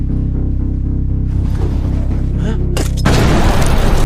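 A landmine explodes in a battle scene from the 2022 war film Sisu: a loud, sudden boom bursts in about three seconds in and roars on as a sustained blast over tense score, with no talk.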